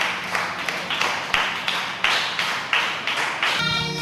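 Enthusiastic applause from festival volunteers as film directors enter the closing ceremony hall of a youth film festival, heard as steady, fairly close clapping in uneven bursts that cuts off near the end.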